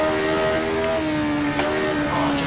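A 1975 McLaren M23 Formula 1 car engine in Assetto Corsa at the classic Fuji circuit, a loud, steady high-pitched racing drone holding revs with slight pitch shifts, close and continuous.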